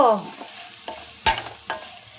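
Vermicelli roasting in oil in a pan is stirred with a spatula, giving soft scraping strokes and a few sharp clinks against the pan over a quiet sizzle.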